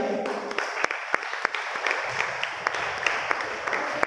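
Applause from a church congregation at a Vacation Bible School function, a steady dense patter of many hands with sharper individual claps standing out, fairly even in level for the whole stretch.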